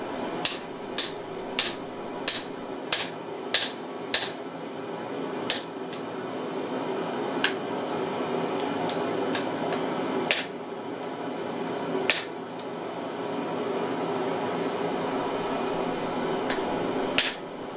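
A hammer forges an axe head, ringing out in sharp metallic strikes, first in a quick regular series, then in sparser blows over a steady background roar.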